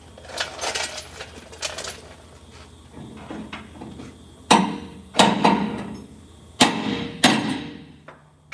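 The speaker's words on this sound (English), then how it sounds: "Let me get a hammer. We're gonna tap that bad boy up some more." Hammer tapping on a part, a handful of sharp metallic knocks, sparse at first then louder strikes in two pairs, close and alone.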